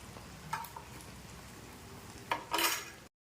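A jaggery lapsi mixture with raisins, cardamom powder and fennel seeds is stirred in a pot over low heat, a soft steady scrape with a couple of sharper clinks of the spoon against the pan near the end.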